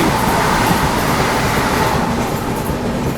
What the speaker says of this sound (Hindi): देखो आ रही है वो भाई, हावड़ा एनजेपी वंदे भारत एक्सप्रेस।